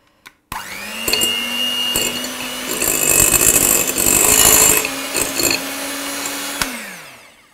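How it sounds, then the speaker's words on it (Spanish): An electric hand mixer whirs on abruptly, runs steadily with rattling and grinding bursts as it beats thick butter into a cream, then winds down and stops. "voy a coger la batidora eléctrica y vamos a batirla en crema"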